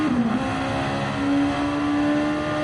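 A race car at speed on the Le Mans circuit through the Porsche Curves, engine roaring loud and steady with a sustained high whine and slight pitch shifts, no voices.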